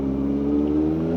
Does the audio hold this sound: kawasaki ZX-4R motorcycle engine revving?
yes